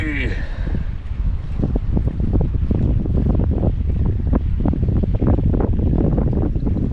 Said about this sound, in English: I am struggling to fish with all this wind